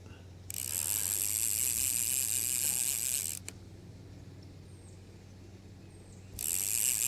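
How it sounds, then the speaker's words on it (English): A Daiwa 500C spinning reel's drag gives off a steady high buzzing whir as a fish pulls line off a fly rod. The sound stops abruptly and then returns near the end, close and continuous with nobody talking. "He got my drag spinning."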